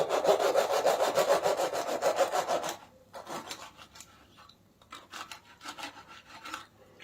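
Someone bites and crunches crispy snacks made from black wheat and ragi flour: a dense run of loud, rapid crackling crunches, then sparser, fainter chewing crunches in bursts, with no talking.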